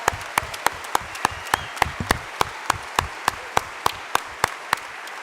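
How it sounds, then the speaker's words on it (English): Audience applause at a community organizing assembly comes through as sharp, evenly spaced claps that carry steadily over a faint room background. "Please give these organizations a round of applause."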